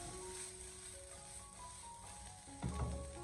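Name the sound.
stir-frying onion and shredded cabbage in a wok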